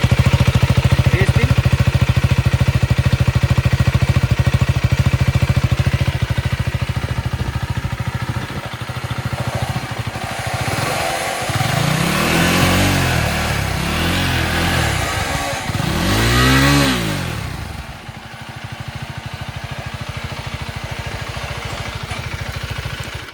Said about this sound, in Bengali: টিপিক্যাল KTM-এর যেমন এক্সজস্ট নোট হয়,